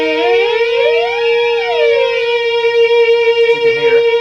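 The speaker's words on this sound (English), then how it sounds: "You're hearing a combination of the filter, the direct output, and resonators." Polymoog 203a synthesizer playing through its resonators with filter and direct output mixed in: a sustained tone with harmonics sweeping up and down in a siren-like glide, then settling into a steady, fairly loud drone.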